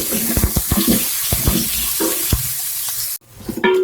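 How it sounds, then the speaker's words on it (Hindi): Water goes into a hot pan of golden fried onions and tomato on the stove, a broad hiss and sizzle with stirring clatter and scrapes, cutting off sharply near the end. "अब मैंने इसमें थोड़ा सा पानी डाला था ताकि ये प्याज गल जाए"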